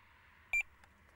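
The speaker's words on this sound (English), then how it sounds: "So the next one is 2 bleeps" A Tx-i Plus fishing bite alarm gives a quick double electronic bleep, two short close tones in rapid succession over a quiet background, followed by a faint click.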